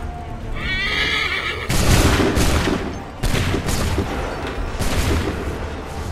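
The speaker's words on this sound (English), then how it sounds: "Open fire." Musket volleys crack out as loud, dense bursts of gunfire in Assassin's Creed III, with horses whinnying and hooves clattering on a busy battlefield.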